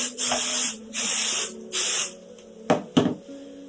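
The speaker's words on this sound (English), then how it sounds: "So a light spraying on the back of the backing fabric." Three long hissing bursts from an aerosol can sprayed onto the back of blanket backing fabric, with pauses between, followed by a couple of sharp taps and clicks.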